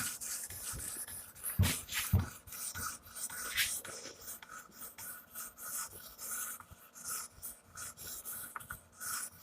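A Damascus dagger drawn across a fine stone on an Edge Pro Apex sharpener to cut off the burr, giving steady, close rasping strokes with a few sharper scrapes, no voices.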